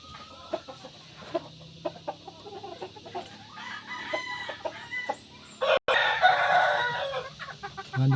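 Big farm chickens in a Philippine coop, hens clucking steadily and a rooster crowing, with overlapping calls that build into a louder, denser chorus in the second half.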